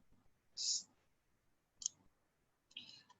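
Three sharp, separated mouse clicks sound, well spaced and close, on a quiet background while working in an Excel spreadsheet.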